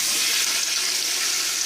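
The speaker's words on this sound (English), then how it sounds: "What I don't want to do is move it around once it starts to sizzle" Steady, broad sizzle of chicken frying in a hot pan, loud and continuous with no pauses or voices.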